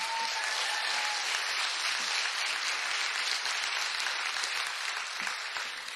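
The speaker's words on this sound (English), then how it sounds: "Let's give a round of applause for all of the contestants." A pageant audience gives steady, sustained applause for the contestants, a dense wash of clapping at a moderate distance that fills the whole stretch.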